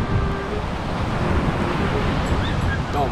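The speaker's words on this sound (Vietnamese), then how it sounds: "Gió gừ quá mọi người." Strong wind blows at the seashore, roaring steadily across the microphone over a broad wash of surf-like noise that stays loud throughout.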